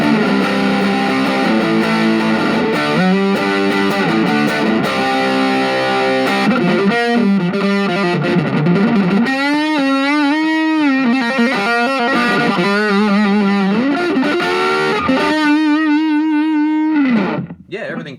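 Electric guitar played through a Boss MD-2 Mega Distortion pedal: heavily saturated chords give way to sustained, bending single-note lines, loud and continuous before cutting off at the end.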